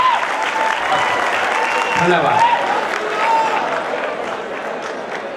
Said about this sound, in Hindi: एक बार जोरदार तालियां इस बच्चे के लिए।